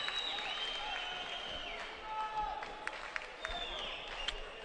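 An arena crowd applauds and murmurs at a 2011 AIBA World Championships heavyweight boxing bout between Azerbaijan and Hungary, steady clapping with a few sharp claps while a commentator talks over it.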